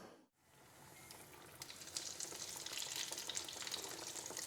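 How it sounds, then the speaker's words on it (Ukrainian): Pirozhki frying in oil in a small pan, a dense steady sizzle and crackle that builds after a brief dip at the start and stays loud and close. "Жаряться вони в олії, бачите, типу як во фритюрі."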